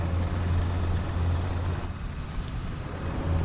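Engine of an M60A1 tank in War Thunder ground battle, a steady low rumble and drone that holds throughout with little change in level.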